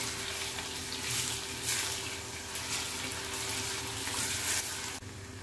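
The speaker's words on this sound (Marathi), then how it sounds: "हे बटाटे थोडेसे ह्याला हलकासा गोल्डन कलर येईपर्यंत हे आपल्याला असे तुपामध्ये फ्राय करून घ्यायचे" Potato pieces fry in hot ghee for a spicy dum aloo, giving a steady, close, broadband sizzle that runs almost unbroken until it drops away near the end.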